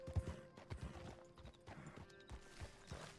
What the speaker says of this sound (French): Il y a un cheval là?